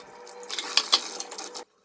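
Running tap water splashing into a kitchen sink being washed, a close, brief burst of hissing flow with a couple of sharp clinks before it cuts off abruptly.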